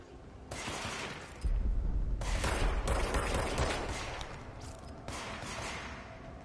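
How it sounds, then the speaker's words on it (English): Sustained automatic gunfire from enemies in the action game Control, dense rapid bursts with heavy low thumps that rise and fall over several seconds, loud and close. "somebody else shooting at me"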